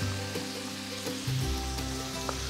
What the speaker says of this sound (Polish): Mam rozgrzany tłuszcz, zaczynam smażyć.